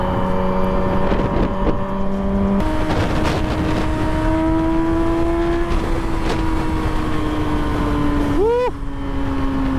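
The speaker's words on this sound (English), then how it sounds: "So not much wind protection, I've got all the wind on me." Steady wind buffeting roars over the microphone while riding a custom Yamaha R6 sport bike, mixed with the engine's sustained drone that shifts pitch as the rider changes gears.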